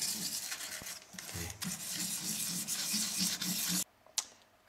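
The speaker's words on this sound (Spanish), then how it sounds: "Lo que hago a continuación es lijarlo por los dos lados para que quede plano." Close, continuous rasping as a small mammoth ivory ring is sanded flat on both sides, back and forth, with a brief pause near the end.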